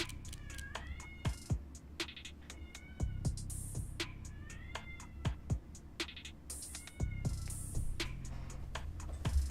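A cat in a video game meows repeatedly in short, bright, rising calls spaced irregularly, fairly close and loud over a low game background hum.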